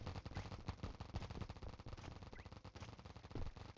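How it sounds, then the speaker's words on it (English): Rapid paintball gun fire in the Big Paintball 2 video game, a dense, continuous volley of sharp shots hammering on throughout, loud and close with game noise underneath. "What are you shooting at?"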